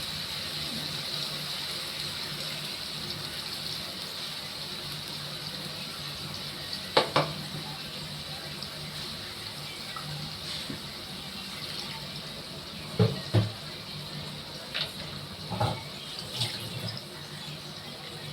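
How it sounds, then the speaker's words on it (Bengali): A spice bowl rinsed under a running kitchen tap and the water poured into a cooking pot: a continuous steady gush with a few light clinks of the bowl near the end. "মশলা বাটিটা ধুয়ে আমি জলটা দিয়ে দেবো।"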